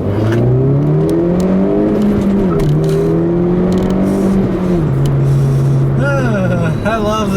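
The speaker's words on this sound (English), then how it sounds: "I'll leave you guys with a nice little acceleration here" A turbocharged Mini accelerates hard, its engine note climbing steadily through the gears and loud from inside the car. The turbo whistles and whirs near the end, and a voice may be faintly audible over the engine.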